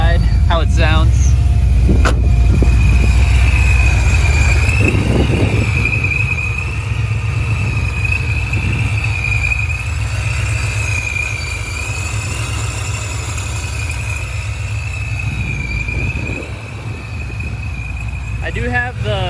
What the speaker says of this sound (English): Let me show you guys how my exhaust sounds.